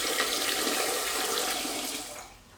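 Jasmine rice being washed by hand in water, a steady close splashing and running-water wash that holds for about two seconds before fading out.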